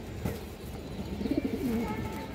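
A one-year-old female Indian high-flyer Kaldam pigeon coos close by, a short rolling, wavering call rising near the middle and trailing off, over faint background murmur.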